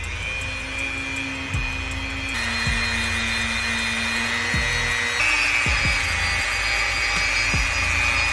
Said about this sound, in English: take a small buffing wheel and take some buffing compound instead and buff off all the big crud first